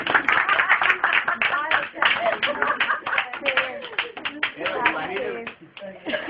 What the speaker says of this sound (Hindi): कविता खत्म, ताली बजाइए